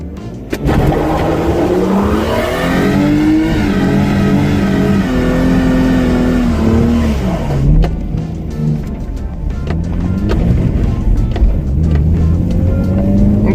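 Lexus IS200 engine with a modified exhaust revving close by, loud and continuous, rising and falling through several throttle blips with a rasping exhaust tone and no talk.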